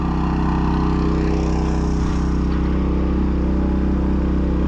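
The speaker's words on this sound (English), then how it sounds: "it looks like our pump's doing some work" A pond dredging pump engine runs steadily and loudly close by, a continuous droning motor with a constant low throb throughout and no pauses.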